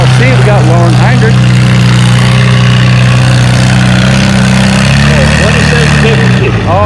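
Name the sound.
Farmall C tractor engine pulling at tractor pull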